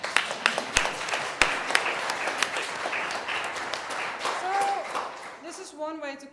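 An audience applauds at a PhD public defense, brisk scattered clapping with a few sharp claps standing out, fading near the end as a voice begins to speak.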